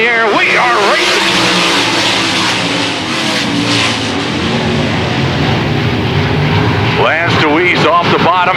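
Race cars roar off at the green flag start of a dirt track feature, a loud continuous engine drone under excited commentary, with engines revving and rising in pitch near the start and again at the end.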